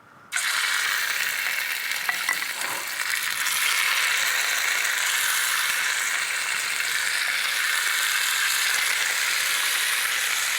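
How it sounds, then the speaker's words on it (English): Meat sears in olive oil in a hot pan, a loud steady sizzle and crackle that starts abruptly and holds on without a break, with a few scraping stirs early on. "we just want to seal this meat off"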